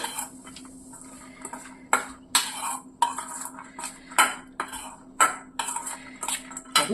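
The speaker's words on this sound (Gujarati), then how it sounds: "આપણે આ સરસ રીતે ચાટને મિક્સ કરી દઈશું" Metal spoon clinks and scrapes repeatedly against a bowl while corn chaat is stirred with red chili powder, a steady rhythm of sharp close taps and clatters with quiet pauses between.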